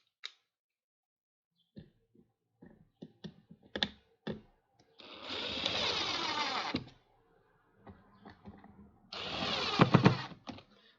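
A sewing machine stitching a guitar strap, heard as two sustained bursts of rapid mechanical whirring, each lasting a couple of seconds, separated by scattered close clicks and handling knocks.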